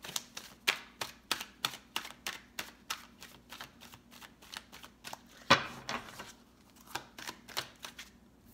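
Tarot cards shuffled and drawn in a series of quick, crisp riffling and snapping bursts, close and fairly quiet, with one louder slap near the middle and no talking.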